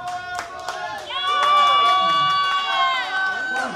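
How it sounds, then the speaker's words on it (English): Audience clapping and cheering at a School of Rock student concert in Waldwick, NJ, mixed with bright sustained tones and voices, clapping most audible briefly before louder sound takes over. "Give him a hand of applause."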